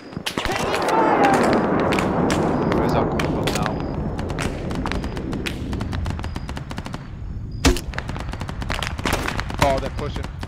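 Gunfire in the video game ArmA rings out in rapid, dense machine-gun bursts, then thins into scattered sharp single shots and distant booms. Voices talk over parts of the firefight.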